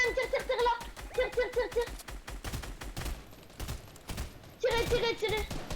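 Rapid bursts of video game gunfire rattle in quick repeated volleys, with people talking over the shooting throughout.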